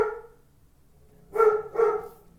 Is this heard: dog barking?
yes